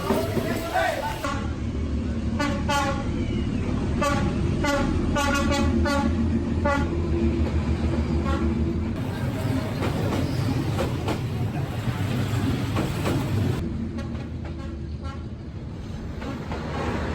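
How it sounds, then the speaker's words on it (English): A train rumbles close through a narrow street in Hanoi, with rhythmic clacking wheels and repeated horn toots over a steady roar, while people talk nearby. "the train is coming in 5 minutes"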